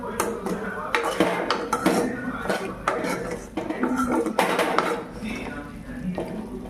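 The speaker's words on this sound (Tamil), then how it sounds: "நம்ம மூடி போட்டு க்ளோஸ் பண்ணிக்கலாம்" A metal lid goes onto a pot of simmering turmeric mutton gravy amid clattering cookware, scraping and stirring, with several sharp, close metallic clanks in an uneven burst.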